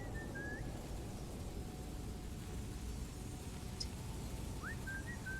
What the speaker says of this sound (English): Somebody's whistling and it's freaking me out.